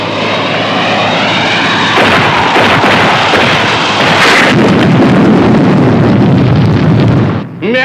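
A shot-down remote-controlled freight airliner roars and erupts in a long, loud, rumbling explosion that swells partway through and then cuts off, with a steady engine drone underneath.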